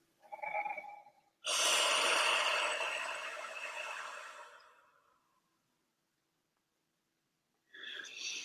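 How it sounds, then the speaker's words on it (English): One slow, deep breath is drawn in and then let out in a long, audible exhale close to the microphone, followed by silence and the start of another breath. "Now just take a nice deep breath"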